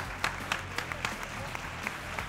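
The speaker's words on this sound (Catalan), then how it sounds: "Un aplaudiment pel jurat que ens acompanyi aquí a l'escenari del Bartrina" Audience applause in a theatre stage setting for a jury at a final, a fairly faint, steady patter of claps with scattered sharper hits, slightly distant, with a voice speaking over it.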